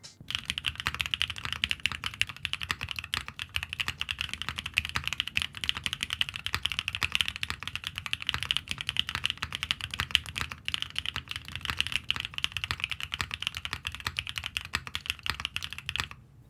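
Steady, continuous typing on a mechanical keyboard fitted with ICONLABS First Love and Aniya switches, the First Loves having a polycarbonate top; dense, close keystrokes run the whole time with no voice.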